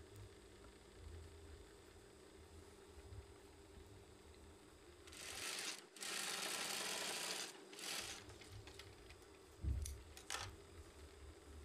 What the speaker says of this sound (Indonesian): Usahakan menjahitnya benar-benar lurus supaya lebih bagus untuk hasilnya.